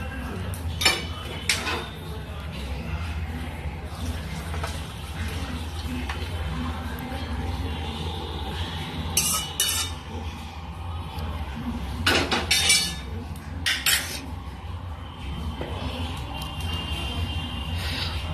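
Hilsa fish curry being poured from a pan into a serving dish, with scattered metal clinks and scrapes of utensils and cookware over a steady low kitchen rumble.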